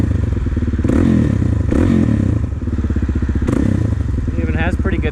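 A Suzuki DRZ400S single-cylinder motorcycle engine idles nearby with a steady loud thumping rhythm and occasional slight blips.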